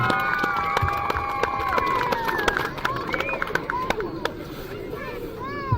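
A crowd at a youth football awards ceremony in Hilliard cheers and claps with sharp hand claps and whistles over steady crowd chatter, loud and close throughout.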